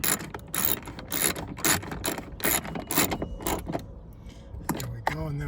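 A ratchet clicks in quick bursts while tightening bolts on a van's power sliding door motor. The clicks are close and sharp, with short pauses and a brief clank near the end.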